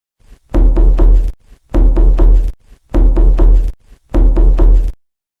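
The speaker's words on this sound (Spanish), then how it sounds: "Bonnie empezó a tocar la puerta de la casa" Someone knocks on the door of a house in four loud, close bursts, each a quick cluster of heavy raps, separated by short pauses of silence.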